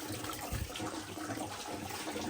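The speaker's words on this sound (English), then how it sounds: "Whole bunch of coolant coming out." Engine coolant drains out of a Range Rover Classic as a steady, broadband watery rush, continuous and fairly loud throughout with a brief low gurgle near the start and no talking.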